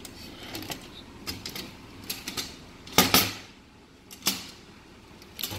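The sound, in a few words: tightening screw with flathead screwdriver on spotlight frame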